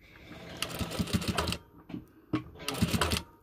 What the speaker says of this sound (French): Là, je vais coudre.